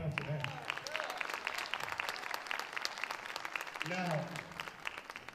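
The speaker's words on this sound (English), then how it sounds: "Can we all clap it up for that?" Audience clapping at an all-star band gathering, a scattered, moderately loud patter of hands running throughout, mixed with voices, with talk starting over it near the beginning and again around the fourth second.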